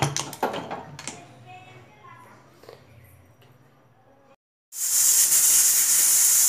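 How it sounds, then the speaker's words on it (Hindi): A pressure cooker whistling while wheat porridge with moong dal cooks, a loud, sustained high-pitched hiss that bursts in after a brief silence and continues steadily, following some clatter and someone talking. "ये देखिए हमारी एक सीटी आ चुकी है।"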